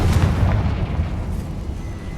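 A heavy booming blast from the Confringo fire spell in Hogwarts Legacy, a loud rumbling explosion that fills the moment and slowly decays, no speech.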